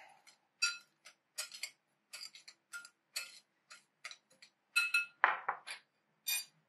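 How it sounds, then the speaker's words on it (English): A spoon clinks repeatedly against a bowl while stirring a mixture of panko, salt and pepper, a run of close, bright taps and scrapes in uneven bursts with silence between. "Stir this up."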